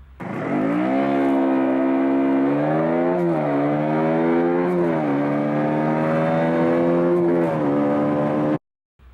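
A KTM Duke 125 motorcycle accelerating hard from a standstill toward 100 km/h, its engine note climbing through several gear changes, loud and close, alone before cutting off abruptly at the end.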